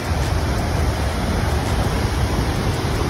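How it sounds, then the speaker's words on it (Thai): Glacial meltwater rushes in flood beneath a bridge near the Passu glacier in Pakistan, making a loud, steady, unbroken roar that never lets up. "น้ำไหลหลากเลยตรงนี้น่าจะเป็นน้ำจากน้ำแข็งที่ละลายนะ"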